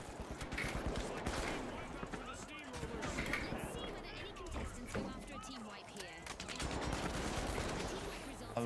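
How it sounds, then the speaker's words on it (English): Rapid gunfire bursts from The Finals video game, dense overlapping shots through the whole stretch with players talking over the action. "We shot at that guy."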